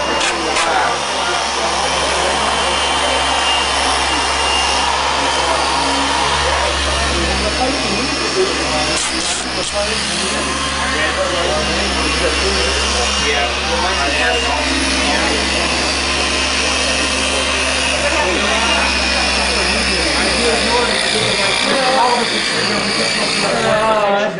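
A car polisher fitted with a microfiber bonnet buffs paint on a MINI, giving a steady, loud motor whir that runs unbroken throughout, with voices talking faintly beneath it.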